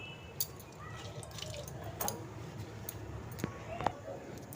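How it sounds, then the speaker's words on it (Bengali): Lentils being washed by hand in water in a home kitchen, with soft drips, splashes and squishy swishing at low level, a few sharper splashes standing out. "আমি একটু ডালটা ভালো করে ধুয়ে নিচ্ছি"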